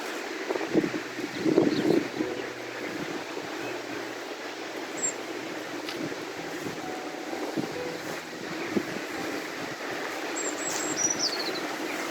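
Steady wind blowing across the microphone at Jervaulx Abbey ruins in East Witton, England, a constant rushing roar with a few louder gusts early on and faint high tones in the background.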